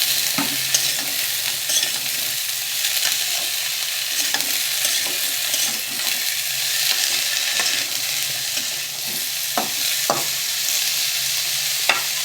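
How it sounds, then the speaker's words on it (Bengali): Potato and pointed gourd frying in oil, a loud continuous sizzle close to the pan with occasional clinks and scrapes of a spoon stirring the vegetables throughout. "এবার আমি সবজিগুলোকে দিয়ে দেবো, আলু আর পটল। দিয়ে তেলের সঙ্গে ভালো করে ভাজবো একটু।"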